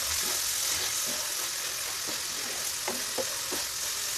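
Turnip stir-fry sizzles steadily in a pan while a utensil scrapes and taps through it in scattered, irregular strokes, with no talking.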